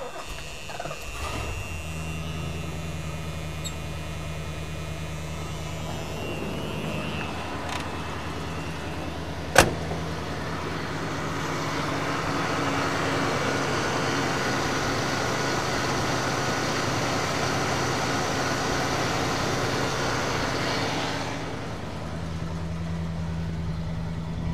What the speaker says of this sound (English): We'll start it up.